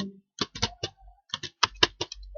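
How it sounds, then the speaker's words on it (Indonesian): Keys clack on a computer keyboard as text is typed into a document, with short bursts of crisp, close taps separated by brief pauses. "Kita ketik kembali"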